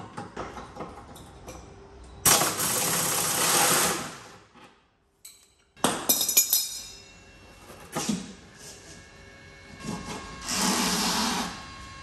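Wrench work on the nuts and bolts of a Ford Falcon differential and sway bar, long stretches of steady mechanical whirring and ratcheting broken by short clinks and a brief pause, close and fairly loud.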